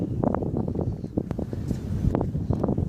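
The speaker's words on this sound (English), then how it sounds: "Sorry about the wind, it is windy today." Gusty wind buffets the microphone outdoors on a windy October day by the docks near London Bridge, a steady low rumble with brief louder bursts throughout.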